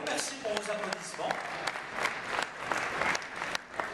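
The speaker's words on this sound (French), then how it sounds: "merci pour vos applaudissements" Audience applause at an e-commerce trade show talk, steady clapping from a crowd of moderate size heard at a distance, fairly soft, lasting throughout.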